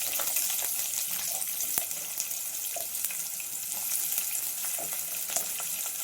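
Onion sizzles in hot oil with mustard seeds, cumin, two chillies and curry leaves, a dense, even hiss that runs throughout with a few soft clicks of stirring and no voices.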